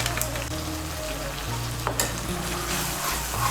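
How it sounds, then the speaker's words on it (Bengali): Turmeric and chili powder masala sizzles in hot oil in a pan, with continuous close frying hiss and intermittent stirring scrapes. "হলুদের গুঁড়ো আর লঙ্কার গুঁড়োটাকে ভালো করে মিশিয়ে নেব। মিশিয়ে নিয়ে মশলাটাকে ভালো করে কষিয়ে নেব।"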